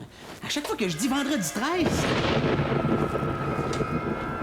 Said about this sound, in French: est-ce que tu sais d'où ça vient, toi, le bruit de tonnerre?